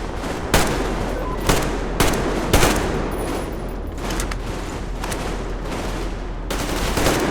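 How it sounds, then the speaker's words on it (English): Sustained covering gunfire in the video game Metro Exodus: dense, continuous automatic fire with several sharper loud bursts standing out, close and heavy throughout with no talking. "Covering fire for the Colonel!"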